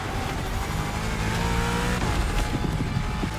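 Engines roar continuously in The Crew Motorfest racing game, where muscle-car Mustangs rev and accelerate in a dense, loud drone with shifting pitch and faint tire noise, and no talk.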